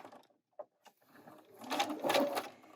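A sewing machine basting along quilt seams, starting with a few slow separate needle clicks and then speeding into a short, close run of stitching.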